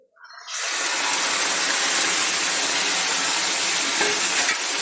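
Yogurt poured into a hot pan for Kerala-style pachadi bursts into a loud, steady sizzle and bubbling boil, rising quickly from silence and holding a dense hiss throughout.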